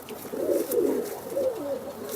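Pigeons in a home loft coo in low, rolling phrases that swell and fade over a couple of seconds, fairly close and moderately loud against quiet background.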